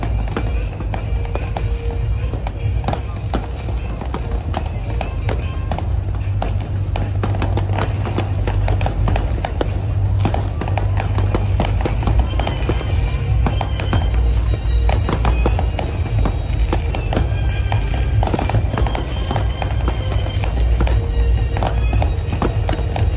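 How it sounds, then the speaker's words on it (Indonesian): Continuous crackling and popping of New Year fireworks over Palembang in 2025, a dense steady barrage of near and distant bursts with faint voices in the background. "Kembang api."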